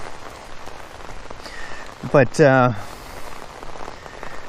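Heavy rain pours steadily outdoors at Lake Norman in Mooresville, North Carolina, a dense continuous hiss throughout, with someone briefly speaking over it near the middle.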